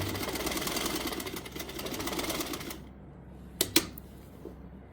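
Sewing machine stitching the shoulder seam of an Anarkali-style kali frock: a steady, close whirring run for nearly three seconds, then stops, leaving a quiet room with a couple of sharp clicks.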